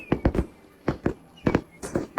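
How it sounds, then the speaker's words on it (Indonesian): Fireworks go off in a series of sharp, booming pops at irregular intervals, some in quick pairs, with faint voices in the background. "kembang api cantik banget"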